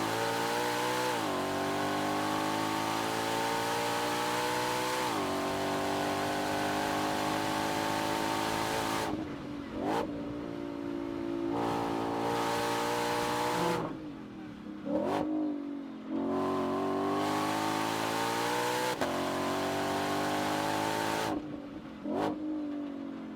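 An 815-horsepower Ford Mustang GTD's exhaust howls loudly through repeated rising gear pulls under hard acceleration, with sharp pops and blips between shifts, sustained and close, with no talking.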